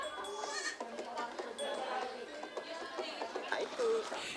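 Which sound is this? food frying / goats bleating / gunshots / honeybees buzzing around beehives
goats bleating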